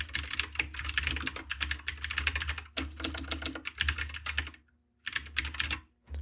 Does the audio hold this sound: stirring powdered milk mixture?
no